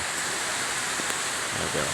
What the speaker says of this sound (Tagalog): Lakas-lakas na ulan.